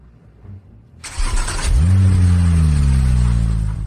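A car engine starts after a quiet moment and then revs up into a loud, sustained drone that holds steady close by.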